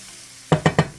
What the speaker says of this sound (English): Let me go ahead and stir this around.